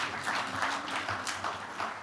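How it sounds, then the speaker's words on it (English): Crowd applause, a steady wash of many hands clapping at moderate volume, sustained for a couple of seconds. "Give him a round of applause."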